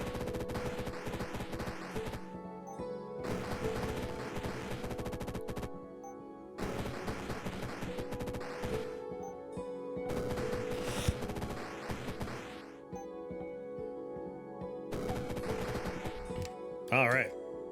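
A Magic Missile spell is cast repeatedly in the video game Rift Wizard 3, with long crackling bursts of rapid-fire impacts separated by short pauses while a voice talks over them.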